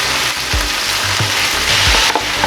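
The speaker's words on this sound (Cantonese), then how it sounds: "放嗰隻雞落去煎啦" Marinated chicken pieces pan-frying in a hot wok for Taiwanese three cup chicken, a loud steady sizzle with several soft clanks and shuffles as the pieces are turned, no voices.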